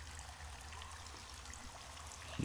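Flowing water trickles steadily in a cave in the survival game The Forest: a soft, continuous wash heard faintly and alone, without change.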